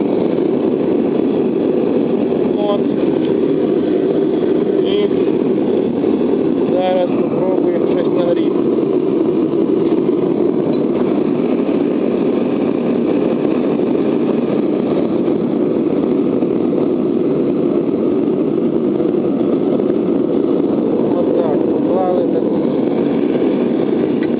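A propane gas forge burner roars steadily at full flame, a continuous loud rushing drone under a voice.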